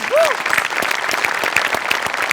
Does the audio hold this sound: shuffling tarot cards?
no